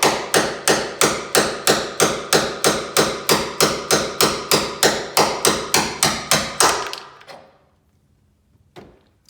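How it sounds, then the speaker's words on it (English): A hammer taps a corroded Jeep Wrangler JK door hinge flange about twenty times in a fast, even rhythm, loud and close, then stops, leaving near silence with two faint later knocks. "Now we'll just tap down on it from the inside, or from the top side."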